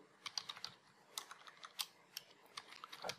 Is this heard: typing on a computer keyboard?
yes